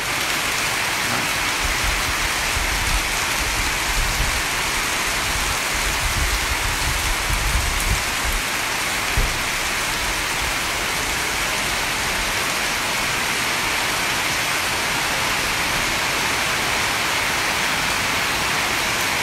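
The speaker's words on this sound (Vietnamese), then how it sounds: "Mưa to quá anh em ơi." Heavy rain pours down steadily in the open during a ceremony gathering, a dense, even hiss with a low patter of drops, loud and unbroken throughout with no talking.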